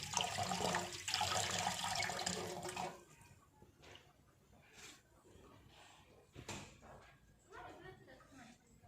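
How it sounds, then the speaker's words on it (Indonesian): Running water from a tap splashes loudly for about three seconds as equipment is rinsed, then drops to quieter trickling and intermittent rinsing sounds with brief splashes. "bilas alat pada air mengalir."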